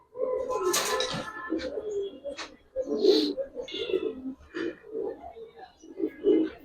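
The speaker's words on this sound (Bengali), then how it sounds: "খুব সুন্দর একটা কবুতর।" Giribaz pigeons coo in low throaty bursts, close and repeated, with a brief human voice in the background among the birds.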